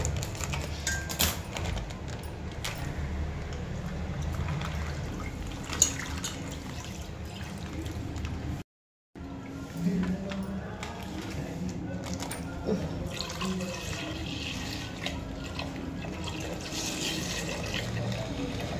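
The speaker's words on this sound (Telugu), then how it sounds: "ఈ 3 పాల ప్యాకెట్లు కట్ చేసి ఒక బాండీలో అయితే వేసేసుకుందాము" Milk from three cut half-litre packets pours into a pan, a steady liquid splash and trickle running through most of the stretch, close and moderately loud, with a brief dropout partway and faint talk beneath.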